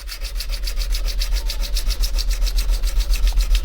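Flat metal is polished with sandpaper on a rigid backing block, a quick rhythmic rasping of about a dozen even strokes a second, close and loud with no talk.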